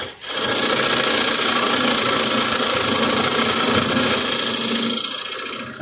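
A skew chisel held as a negative rake scraper cuts into spinning wood on a lathe, giving a loud, continuous rasping hiss over the motor's hum that fades out at the end.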